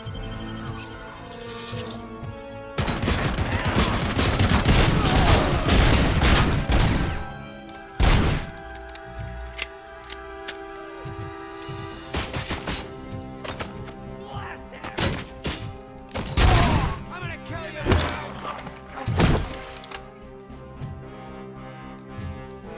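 Shots ring out in the video game Robocop: Rogue City as a dense burst of gunfire followed by scattered single impacts and thuds, with game music and effects beneath and someone talking over parts of it.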